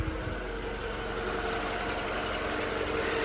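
A 2016 Mini Countryman 1.6 petrol engine idles steadily with a low, even rumble and faint mechanical ticking, continuous throughout with no voices.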